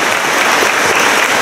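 Congregation at a children's Mass applauding a nativity performance about Saint Francis of Assisi, a loud, dense, continuous burst of many hands clapping that holds steady for its short length.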